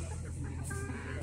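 A chicken gives a short, soft cluck at close range over steady low background noise.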